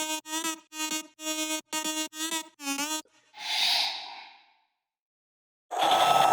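Main synth lead of an electronic music drop: a run of short, bright, rhythmic stabs, then a breathy noisy swell, a brief silence and a sudden loud burst.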